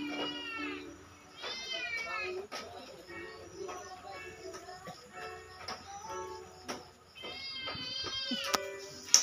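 A cat meows repeatedly at close range, a series of rising and falling calls spread across the clip with brief pauses and soft background noise.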